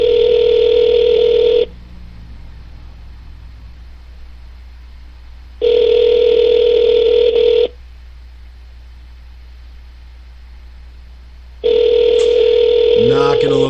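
An unanswered telephone call rings out: three long electronic ring tones, each about two seconds, separated by roughly four-second pauses, loud and steady over a faint hum.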